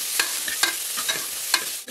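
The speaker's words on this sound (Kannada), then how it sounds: "ನಂತರ ಕಾಳುಮೆಣಸು, ನಂತರ ಈರುಳ್ಳಿ, ಆಮೇಲೆ 1 ಟೊಮ್ಯಾಟೊ ಇಷ್ಟು ಹಾಕಿ ಚೆನ್ನಾಗಿ ಫ್ರೈ ಮಾಡ್ಕೊಳ್ಳೋಣ" Peppercorns, onion and tomato fry and get stirred in a pan for a country-style chicken curry, giving a steady close sizzle broken by several scraping stirs.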